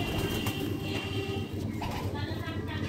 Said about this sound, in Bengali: এটা একটা ঘরের ব্রিডার মাদি পায়রা